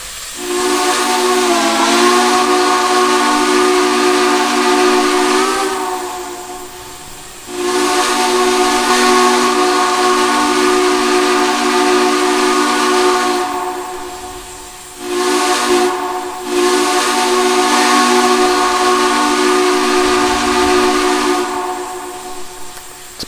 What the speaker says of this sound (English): Pretty nice sounding whistle, I will say. Nice and loud, nice and deep.